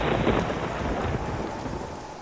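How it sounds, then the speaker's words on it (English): Rumbling peals of thunder roll through a heavy storm with steady rain pouring down, a loud and continuous wash of sound with no voices. "I know that I heard peals of thunder."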